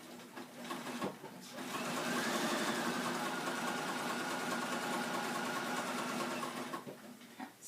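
Sewing machine with a quarter inch foot stitching fabric, a close, steady rapid whirring hum that starts, runs continuously for several seconds and then stops.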